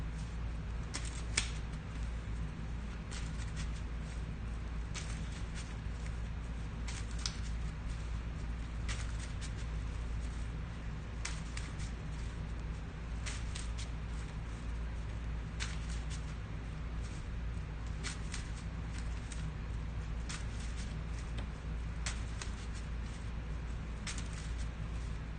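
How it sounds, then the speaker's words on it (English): Playing cards shuffled repeatedly, a steady run of soft riffling and flicking clicks spread evenly across a long stretch, quiet and close with no talking. "let's keep shuffling this up"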